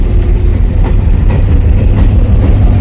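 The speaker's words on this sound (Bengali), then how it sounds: "এই যে যাচ্ছে শিলিগুড়ি লোকাল ট্রেন" A Siliguri local train rolls past at close range, a loud, steady low rumble of wheels and carriages with rhythmic clatter throughout.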